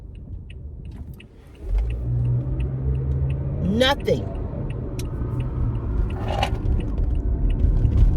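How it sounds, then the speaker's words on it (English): A car engine with loud abnormal noises as it revs, a steady rumbling drone that swells in after a short quieter stretch and holds loud and close to the end. "This car shouldn't be making no noises, no sounds, no nothing."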